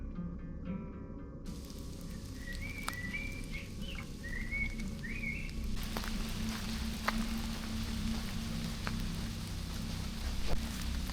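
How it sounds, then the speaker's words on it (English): Steady rain patters in a forest with a dense hiss, while a few bird whistles chirp faintly in the background. "It's raining a lot."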